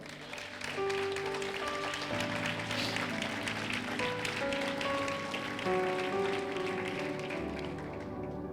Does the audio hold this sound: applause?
yes